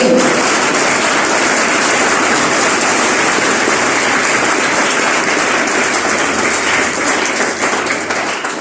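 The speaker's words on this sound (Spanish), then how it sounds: "Si le va a aplaudir a Jesús, hágalo como el de Monterrey." A church congregation applauds, dense sustained clapping that fills the room evenly and continues throughout, tapering a little near the end, with no talk above it.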